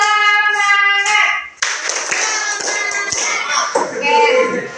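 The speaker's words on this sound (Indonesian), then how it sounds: "Kita tepuk semangat dulu ya" A classroom of students does a rhythmic tepuk semangat clapping chant with a teacher, loud voices chanting in unison over sharp hand claps, then a burst of clapping and chatter.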